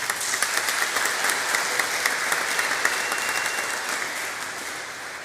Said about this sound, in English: if you would provide them with a little bit of brief applause